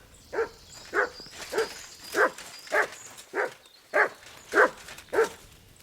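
A dog in Kingdom Come Deliverance 2 barks nine times in a steady rhythm, each bark sharp and close, standing alone with no talk over it.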